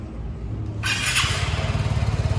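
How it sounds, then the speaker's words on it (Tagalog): A Vespa Primavera 150 scooter starts up close by: a starter whir gives way to the engine catching, then a steady, throbbing idle with a quick, even pulse. "I would like to hear how this Vespa Primavera 150 starts."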